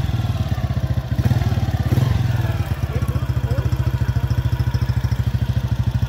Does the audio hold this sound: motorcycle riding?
yes